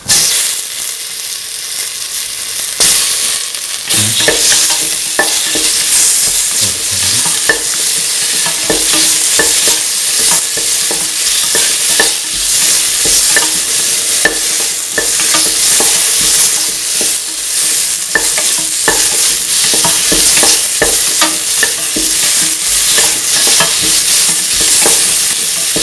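Tomato pieces fry for a beef, potato and coconut milk stew, with a loud, steady sizzle close by and repeated scraping stirs across the pan throughout, and no talking.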